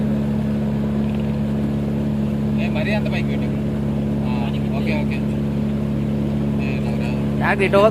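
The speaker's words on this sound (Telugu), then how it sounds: "అద్దో బోట్ వచ్చింది చూడ, ఆడ బోట్ వచ్చింది, అటు నుంచి పోతారు" A motorboat engine drones steadily through a mangrove forest, a constant low hum that swells slightly as the boat approaches, with people chatting nearby over it.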